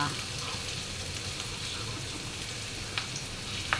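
Fragrant aromatics stirred in a clay pot, a steady soft sizzle with occasional scraping clicks and light spattering, close and moderately quiet.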